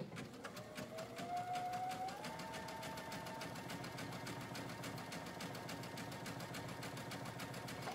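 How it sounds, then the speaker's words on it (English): Sewing machine top stitching the seam allowance of a pocket seam on pants, a steady close whirring hum of the needle running continuously for several seconds without talk. "So I am top stitching the seam allowance towards the pocket"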